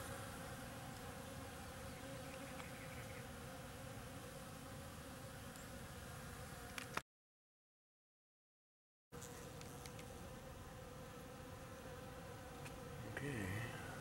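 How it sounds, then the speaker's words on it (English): Many bees buzz steadily and close around flowering flying saucer cactus blooms, a dense continuous insect drone with a brief silent gap midway. "Lots and lots of bees."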